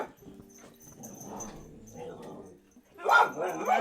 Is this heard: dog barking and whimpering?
yes